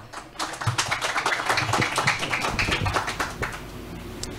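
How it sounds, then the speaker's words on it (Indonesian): Audience applause for a school principal at a village community school award ceremony, dense steady clapping from a crowd lasting several seconds without speech. "Tepuk tangan untuk kepala sekolah"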